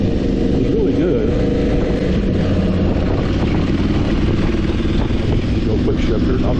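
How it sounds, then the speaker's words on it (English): Aprilia Tuareg 660 motorcycle riding with a loud, steady engine drone and heavy wind rush, close and constant throughout, while quick-shifter gear changes go unmarked within the dense roar. "Go quick shifter, and I'll get ready to hit the clutch."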